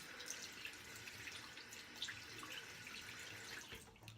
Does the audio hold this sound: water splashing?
yes